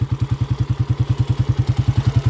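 A motorcycle engine idles smoothly and evenly after a timing gear overhaul, its rhythmic low putt-putt pulsing fast and steady at close range with no voices.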